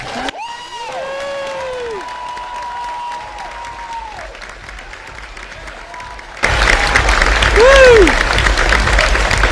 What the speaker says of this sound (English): Cheering, loud noises.